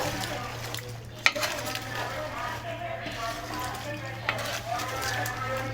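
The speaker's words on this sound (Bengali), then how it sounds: "মটর একটু নেড়ে দেই নেড়ে পাঁচ মিনিট আরও কষাবো" Peas and vegetables for khichuri are stirred in a pan with soft scraping and one sharp clink of a utensil, under a faint low hum, while a person talks intermittently.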